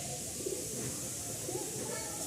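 Sirazi cross pigeons coo softly in a loft, two low throaty coos audible beneath steady background noise and faint voices.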